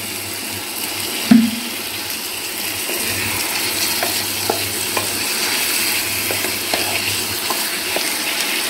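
Spice paste sizzles in a pan as a little water is added and stirred in, giving a steady wet frying hiss with a sharp knock early on and light scraping taps throughout, close and without speech.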